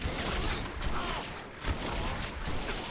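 Rifle gunshots and scattered shooting in the video game Red Dead Revolver, a dense run of sharp reports over continuous game noise, fairly loud with no talking.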